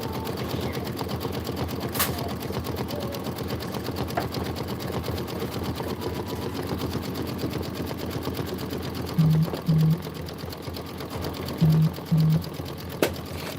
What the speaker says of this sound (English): We are 26 minutes in. We still have 20 minutes left in this stitch out.